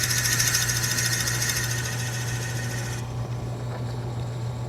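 Wood lathe spinning at reduced speed while a tool bores a hole into a wooden toothpick dispenser, giving a steady close whine and hum whose high buzzing drops off partway through, leaving a lower running drone.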